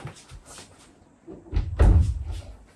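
A wardrobe door in a Japanese bedroom swings shut with a soft rustle and then a firm thud and rattle, close and clear, with no talk over it.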